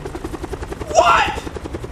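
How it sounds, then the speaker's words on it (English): A helicopter in the video game Call of Duty: Blackout chops along steadily with a fast, even rotor beat, while a voice speaks over it partway through. "Can you get in the helicopter?"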